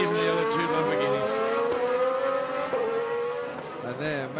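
A Reiter Lamborghini GT1 race car screams around the Algarve circuit during 2010 FIA GT1 qualifying, its loud engine note rising and falling through gear changes, with a commentator talking over it.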